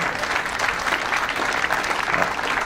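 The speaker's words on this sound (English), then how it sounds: "Yeah, round of applause for that, right?" An audience at an Armenian Genocide commemoration gathering in Montebello, California, gives a round of applause: dense, continuous clapping at close range with no pause.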